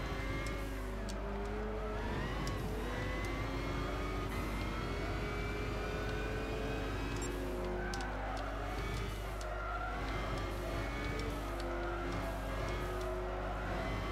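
A Ford Falcon race car in Gran Turismo 6 at Apricot Hill, its engine screaming continuously through gear changes alongside other racing cars, with tire squeal and loud, steady revving throughout.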